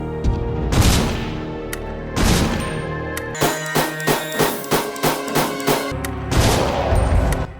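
Shotgun blasts in Resident Evil Survivor 2, fired at a Bandersnatch from long range: a loud, sharp string of about a dozen evenly spaced booming shots, with heavier bursts at the start and end.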